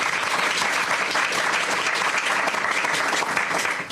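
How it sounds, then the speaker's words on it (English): Dense, steady applause from a large audience at a Boston school announcement event, sustained evenly throughout with no talk over it. "Please give them a round of applause."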